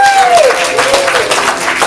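Comedy improv audience at a ComedySportz show in Portland applauding, a dense wash of clapping lasting the whole stretch, fairly loud with a brief whistle-like tone at the start.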